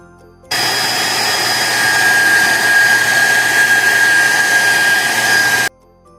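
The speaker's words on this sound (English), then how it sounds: "I'm going to use a hairdryer to soften it." A hair dryer switches on and runs at a steady, loud, even whir for about five seconds while heating the head of a toy pony, then cuts off abruptly.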